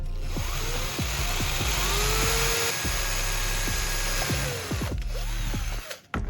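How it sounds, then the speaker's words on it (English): A handheld power drill whines steadily as it bores a hole near the top of an empty plastic shampoo bottle, loud and close, with the motor pitch wavering slightly before it cuts out near the end. "I'll drill a hole near the top of the bottle so it can be hung"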